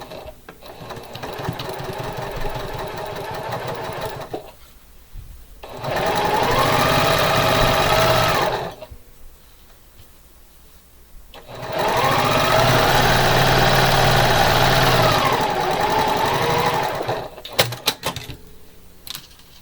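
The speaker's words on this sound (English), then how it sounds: "I take them to my sewing machine and sew a 1/4 inch on each side." A sewing machine runs in two long bursts of steady whirring stitching a quarter-inch seam on quilt fabric, close up, separated by short pauses, with no talking.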